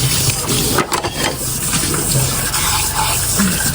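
Water runs steadily from a tap while something is washed under it, a close, loud, continuous gush with slight splashing changes.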